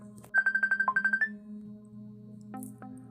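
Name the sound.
phone ringtone ringing on a table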